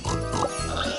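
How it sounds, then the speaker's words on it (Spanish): Cartoon pigs oink and grunt near a pig farm in a children's train cartoon, a short burst of close, loud snorting. "¡Algunos cerdos se han alejado de la granja!"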